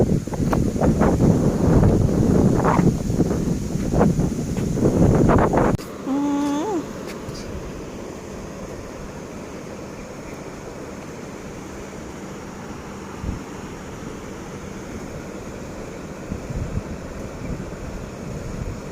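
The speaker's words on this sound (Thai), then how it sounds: "ลมเย็น" Cool wind blows steadily across an open outdoor roadside spot, a loud gusty buffeting on the microphone for the first few seconds, then settling into a softer, continuous rushing hiss.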